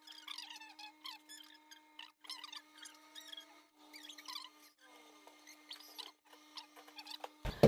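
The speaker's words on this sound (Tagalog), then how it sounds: "bagong harvest namin ng mga sisiw" Newly hatched chicks peep in a steady run of high, chirping calls, close and fairly faint, with short pauses between bursts and a brief thump near the end.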